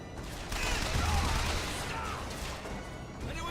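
Sustained gunfire and explosive crashes from combat in the video game BioShock Infinite, a loud dense barrage filling the whole stretch, with a voice faintly underneath.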